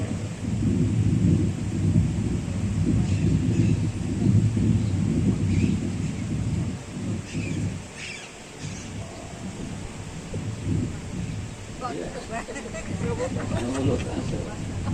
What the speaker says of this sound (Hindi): आप पर्वत के ऊपर विराजे हैं तो बादल गड़गड़ाहट हो रही, ये प्राकृतिक आपको चमत्कार है।